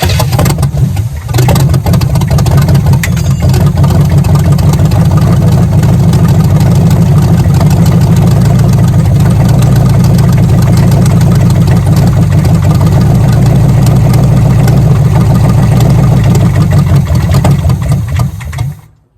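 A 1983 Chevy Malibu wagon engine, revived after sitting for over a decade, idles steadily with its choke partly engaged. The low rumble is loud and close, holds even for nearly twenty seconds, then cuts off abruptly.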